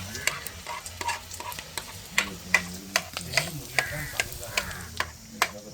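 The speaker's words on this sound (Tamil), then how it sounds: "இந்த ரத்தத்தை வச்சு கிண்டி கொண்டு இருக்கிறார்." Goat blood is stirred and fried in a pan, a utensil scraping and tapping the pan in a steady rhythm of sharp clicks over a faint sizzle, with quiet voices in the background.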